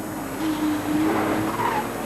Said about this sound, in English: Tyson very nearly losing it on Pie Chicane there. Very twitchy tail end. Of course, the rear-engined Porsche 911, not the easiest car to drive in the wet.